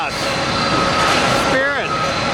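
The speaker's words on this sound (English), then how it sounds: "A300 comes in." An Airbus A300 jet arriving at Tampa airport, heard as a loud, continuous broadband engine roar with a whining tone held throughout, as a person speaks over it.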